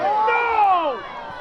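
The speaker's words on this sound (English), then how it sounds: "Rancho Bernardo crowd voicing their displeasure" Rancho Bernardo supporters at a girls varsity high school soccer match raising a brief collective shout of displeasure, a loud crowd wail that rises and falls away within about a second.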